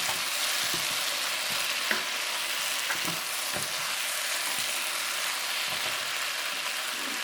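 Lobster and onions stir-fry with mixed vegetables in a steady, close sizzle. Occasional clicks and scrapes of stirring break through the constant frying hiss.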